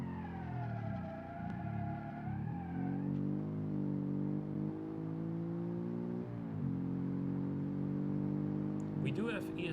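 Steady car engine hum from a vehicle driven in the BeamNG driving simulator, with the pitch rising and shifting through gears over about ten seconds, then a brief burst of other noise at the very end.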